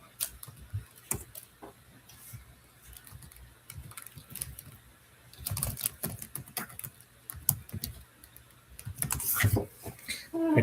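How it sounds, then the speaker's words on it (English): Typing on a computer keyboard gives a close, irregular run of key clicks that comes in bursts and pauses, with a faint steady hum beneath. "I typed my answer, but it's not showing up"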